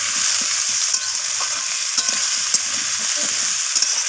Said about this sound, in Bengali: তো সমস্ত কিছু আমি নাড়াচাড়া করে ভেজে নিচ্ছি।